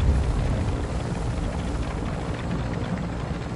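A steady low rumble of helicopter rotors in the video game Warzone drones continuously at moderate volume, with no one speaking.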